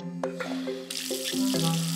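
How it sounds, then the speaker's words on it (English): Water runs steadily from bath taps in a cartoon bathroom, with light splashing and shifting trickles as the flow continues alone. "Let's turn on the taps again, and we can follow the water."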